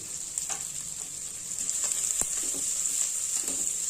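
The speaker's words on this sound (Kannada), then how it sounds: "ಇದನ್ನೆಲ್ಲ ಚೆನ್ನಾಗಿ ಫ್ರೈ ಮಾಡ್ಕೋಬೇಕು." Onions frying with a little salt in oil for a potato stir fry, a continuous bright sizzle close by with occasional clicks and stirring knocks, no voices.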